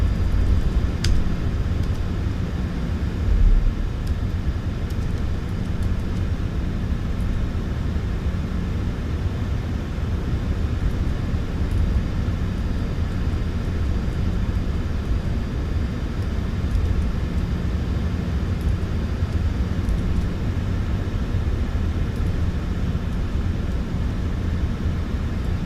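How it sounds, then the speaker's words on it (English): A new factory-fresh airplane's engine runs steadily before shutdown, a dense, constant droning roar with broadband rumble that holds at an even level throughout, heard close with no voices. "Shutting the aircraft down."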